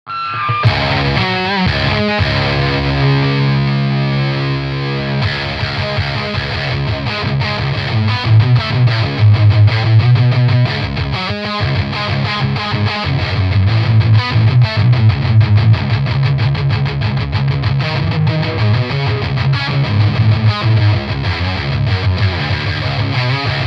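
A heavily distorted electric guitar through a Boss HM-2W distortion pedal plays loud, saw-edged riffs with thick, buzzy saturation and sustained chords, continuous and up close.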